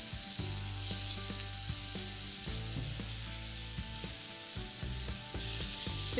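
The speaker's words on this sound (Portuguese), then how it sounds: "E vou colocar 1/2 cebola picadinha. E vamos esperar ela fritar um pouco." Chopped half onion frying in a pan, a dense, steady sizzle throughout with some low mechanical hum and occasional scraping, moderately quiet and continuous with no talk.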